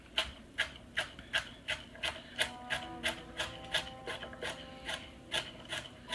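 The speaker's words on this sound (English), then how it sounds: "So we are slicing the carrot." A freshly sharpened knife slicing through a carrot on a board, a steady run of crisp, evenly spaced cuts, close and fairly quiet.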